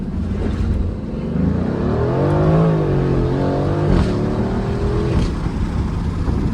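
A 2019 Aston Martin Vantage launches at full throttle with traction control off, its engine roaring loudly and climbing in pitch through rising revs, with a brief dip at a gear change before pulling hard again.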